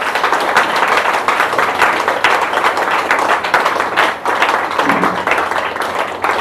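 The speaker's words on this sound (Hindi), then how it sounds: "मैं चाहूँगी कि इनके लिए एक ज़बरदस्त ताली होनी चाहिए" An audience gives loud, sustained applause for a speaker's parents-in-law, a thick, continuous roar of many hands clapping that holds strong for several seconds with a brief dip partway through.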